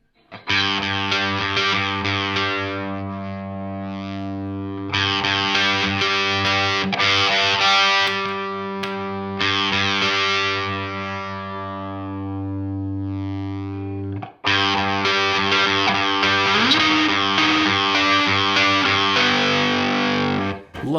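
Heavily distorted electric guitar chords through a Red Rox distortion pedal ring out in long sustained bursts separated by brief pauses, thick and saturated.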